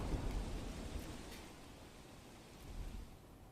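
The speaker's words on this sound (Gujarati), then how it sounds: "નવસારી જિલ્લામાં ધોધમાર વરસાદ યથાવત" Heavy monsoon rain falls continuously in Navsari, Gujarat, a steady, soft broadband hiss with no voices, swelling slightly near the end.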